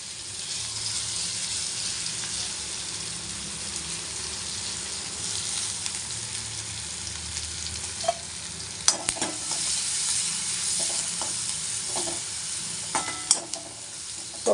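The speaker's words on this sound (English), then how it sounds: "We will put the onion in this." Chopped onion drops into hot oil with cumin seeds, asafoetida and turmeric for bharda, giving a loud steady sizzle with scraping stirs and sharp clicks of a spoon against the pan, with no talk.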